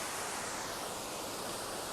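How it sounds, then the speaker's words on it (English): Waterfall at the Falls of Clyde near New Lanark, a dense, steady roar of falling water heard from close by, unbroken for the whole moment, with no voices. "I'm up at the waterfall at New Lanark, and it's a lovely morning."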